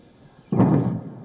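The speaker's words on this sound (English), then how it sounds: "A loud boom was heard in Washington, D.C. on Sunday afternoon." A sonic boom from F-16 jets over Washington, D.C. on a Sunday afternoon, heard as a single sudden loud low thud that hits hard and then rumbles out over about a second.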